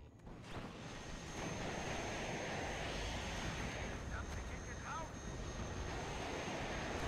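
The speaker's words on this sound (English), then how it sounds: "now I decided to attack with the airplane" A fixed-wing aircraft attack in the WARNO war strategy game: a loud, steady roar of airplane engine noise that swells in and holds, with a few brief higher whistling tones near the end.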